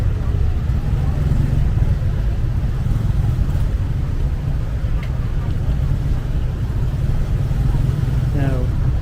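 Dense Bangkok street traffic rumbles steadily from nearby, a continuous low engine drone of cars and motorbikes with no pauses, one brief rising whine near the end, and a busy city wash over everything.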